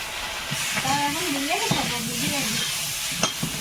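Steady sizzling of elephant foot yam frying in a pan, with occasional stirring clinks and a voice talking over it.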